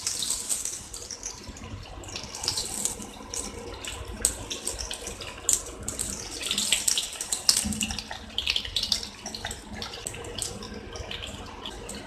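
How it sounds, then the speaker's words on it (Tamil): Sweet potato fingers deep frying in hot oil, a steady crackling hiss with dense bubbling that holds for the whole stretch, with no one talking. "கொஞ்ச நேரம் ஃப்ரை ஆகட்டும்."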